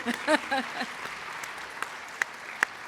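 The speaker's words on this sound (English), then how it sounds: "Can we maybe give them a round of applause?" Brief audience applause for a conference panel, a soft patter of clapping that quickly thins out to a few isolated claps.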